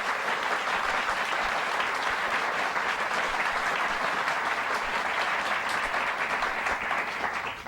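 Steady, loud audience applause for Ruth Singleton on a television talk show, a dense continuous wash of clapping that holds for several seconds before easing slightly at the end.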